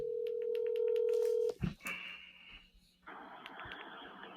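A phone call placed on speakerphone: a steady tone with keypad-like beeps, a brief clunk, then ringback tones, thin and electronic and loud near the mic, with no talk.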